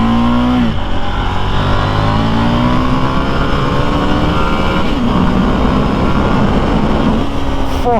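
A KTM Duke 890 R twin-cylinder motorcycle engine revs loud and close on a test ride, with a sharp throttle blip and falling pitch early on, then steady, rising drone under load with further surges.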